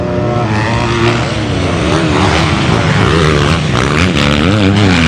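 Husqvarna motocross bikes racing at a Hastings Valley motocross round, including a 272 Husqvarna, their engines droning loud and continuous with rising and falling revs as several machines pass close by.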